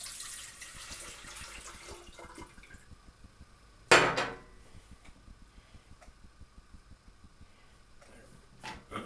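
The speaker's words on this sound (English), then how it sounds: "tip the water in" Water tipped from a tap into a Goodmans stainless steel 1.7 litre jug kettle, a short splashing pour with clicks and light clatter around it at modest level, then soft knocks afterward.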